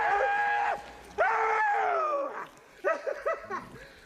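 Dogs whimper, whine and yip in short, high, close bursts, with a few choppy yelps near the end.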